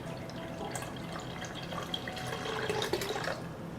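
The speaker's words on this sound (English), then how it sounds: "I add lemon juice to the pan." Lemon juice pours into a pan while making mock pineapple from large zucchini, a steady liquid trickle and splash running for several seconds with small drips, close and moderately quiet, with no talking.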